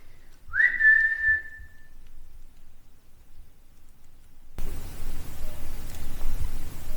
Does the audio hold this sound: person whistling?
yes